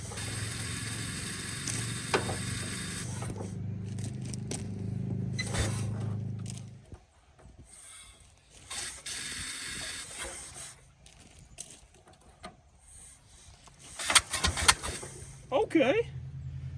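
The engine of a 1925 Ford Model T Express truck, low on compression after sitting for 75 years, cranks in a steady churning drone for about six seconds, then stops. Quieter clanks and rattles follow, with people talking nearby.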